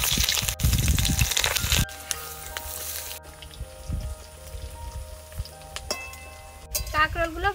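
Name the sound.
spiny gourd frying in oil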